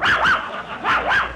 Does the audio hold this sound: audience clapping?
no